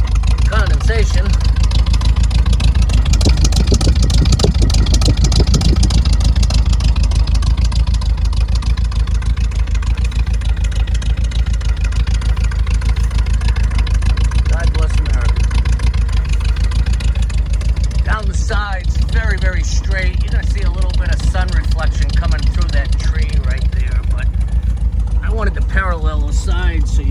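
A 1955 Chevrolet Bel Air convertible, a survivor barn find, idling steadily just after a cold start, its low engine rumble continuous and close, with a brief change in tone near the end.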